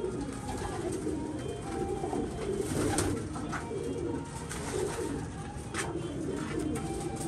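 Pigeons coo softly and steadily in mild weather, low throaty calls repeating over a continuous bed of background noise, with no one talking.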